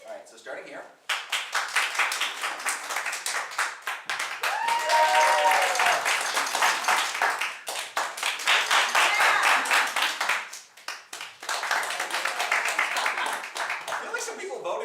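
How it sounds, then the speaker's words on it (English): An improv show audience claps in several separate bursts, each a dense, loud round of many hands broken by short gaps, with a voice briefly speaking between rounds. "you clap based on which game you want to see us play next"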